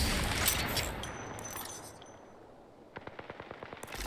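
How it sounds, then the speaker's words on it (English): Rapid bursts of gunfire in the video game Apex Legends: a sustained clatter fades into a lull, then a crisp string of evenly spaced shots rings out close by toward the end. "The enemies are shooting at me."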